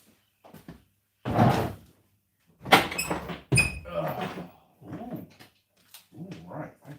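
A house front door is opened for a visitor with bumps, rattles and a latch clunk, amid shuffling and a dog whimpering close by, while people speak briefly.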